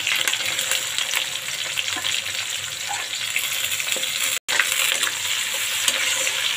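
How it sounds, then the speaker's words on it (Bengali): Chopped onion and garlic with bay leaf frying in a pan, a dense, steady sizzle close by with faint stirring scrapes and a brief dropout partway through. "এবার পেঁয়াজ আর রসুন কুচিটা ভালোভাবে ভেজে নেব।"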